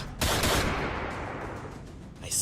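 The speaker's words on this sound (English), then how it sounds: "Guns cocking, firing." Gunfire sound effect for a Last Ronin comic dub, a dense burst of rapid shots with weapons cocking, loud and continuous throughout with a sharp click near the end.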